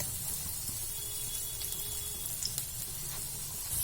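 Food shallow frying in a pan on medium heat gives a faint, steady sizzling hiss with occasional soft pops, quiet and continuous with no talking.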